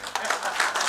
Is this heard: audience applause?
yes